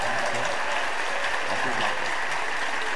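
An audience rises to its feet and applauds the speakers at the close of a talk, a dense, steady wash of clapping that fills the room loudly and continuously throughout.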